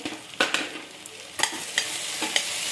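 Tomato and green chillies are stirred into a frying curry base for mutton curry, with several distinct spoon scrapes against the pan over a soft continuous sizzle, close by and without speech.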